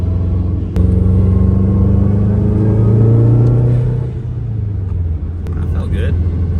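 A 2006 Subaru WRX with a blown turbo oil seal and 173,000 miles pulls away under throttle, its loud engine drone rising steadily before easing off, heard up close throughout.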